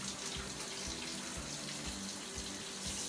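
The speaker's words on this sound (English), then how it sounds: "So definitely wash off apples, other vegetables and fruits underneath running cool water." Cool tap water runs steadily into a sink as fruits and vegetables such as apples are rinsed beneath it, a continuous close hiss with faint irregular splashes and no voices.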